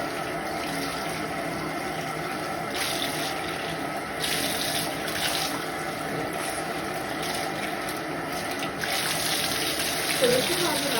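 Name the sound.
tap water rinsing bleach out of a hair unit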